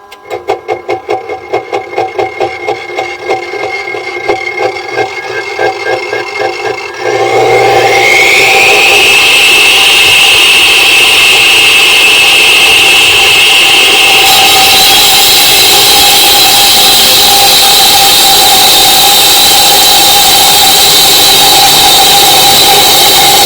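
Saw cutting into concrete, powered by a Milwaukee MX Fuel carry-on power supply, starts with a rapid rattling idle, then climbs into a loud, steady high-pitched whine that runs continuously up close.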